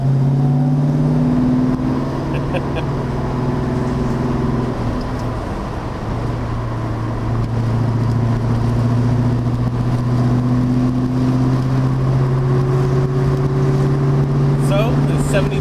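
A 1973 Plymouth Cuda with its numbers-matching 340 cubic inch V8 and four-barrel carburetor drones steadily while driving, a low engine hum with shifting pitch, holding loud and continuous throughout with road noise and a voice at times.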